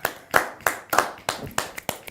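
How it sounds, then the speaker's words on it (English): A few people clap for guests on a live stream, roughly eight crisp, separate hand claps in a quick, fairly regular rhythm, close and clear with no talking. "Everybody give a warm round of applause."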